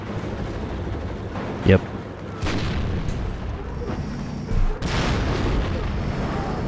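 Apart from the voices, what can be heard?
Russian tank gunfire in Warno video game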